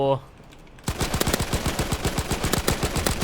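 Rapid machine-gun fire in a World War II shooting game, a long loud burst of evenly spaced shots following a brief quiet moment.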